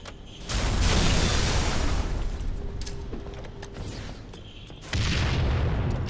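A grenade goes off in Halo 3 multiplayer, a broad low boom that swells and holds for a few seconds, then a second heavy burst near the end, with game sounds around it.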